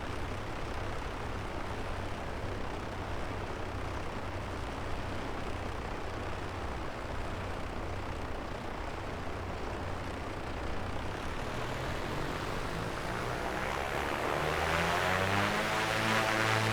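Twin engines of an A2A Aerostar 600 in flight in MSFS 2024, a steady droning roar that shifts late into a throbbing, phasing propeller beat as power changes, continuous with no speech.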